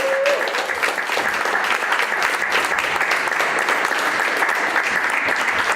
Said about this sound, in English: Round of applause, please, for our next artist.